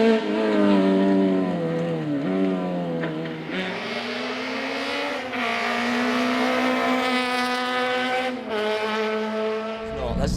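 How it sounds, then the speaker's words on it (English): A Polo rally car drives a forest stage of the Grampian Forest Rally, its engine revving and shifting through gears in loud, rising and falling runs close by, with talk faintly over it. "the car was sounding absolutely glorious out in the woods"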